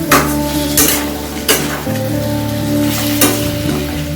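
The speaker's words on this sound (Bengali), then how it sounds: "এবার ভালো করে মশলাটা কষিয়ে নেব" Spice masala for Bengali egg curry fries and is stirred in a pan with a loud, close sizzle, broken by repeated sharp scrapes and clinks of the spoon against the metal.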